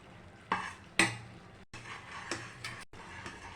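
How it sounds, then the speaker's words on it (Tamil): Thick Mysore pak batter stirred on the stove over a medium flame, the spoon scraping the pan in a few quiet, separate strokes with short pauses between them. "கைவிடாமல் இலக்கி கொடுத்துட்டுருங்க."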